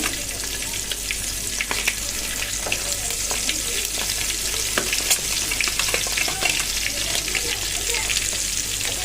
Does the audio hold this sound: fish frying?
yes